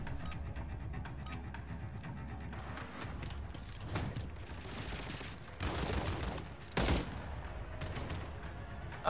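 The MTZ-762 rifle firing in the Modern Warfare 3 video game, bursts of sharp, close shots amid dense battle noise, with a few louder cracks near the end.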